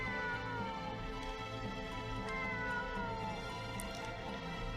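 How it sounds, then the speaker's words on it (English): Cats meowing in the video game Star Ocean First Departure R, a steady run of overlapping plaintive mewing calls, close and continuous for several seconds with no talk over them. "Kitties!"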